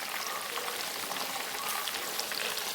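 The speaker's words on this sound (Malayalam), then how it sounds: "നമ്മുടെ ചിക്കനെല്ലാം വറുത്ത് കോരിയിട്ടുണ്ട്." Chicken pieces frying in hot oil give off a soft, continuous crackling sizzle, fairly quiet and steady throughout, with no voices.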